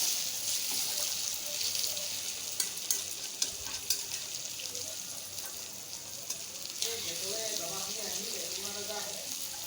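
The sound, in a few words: potatoes frying in oil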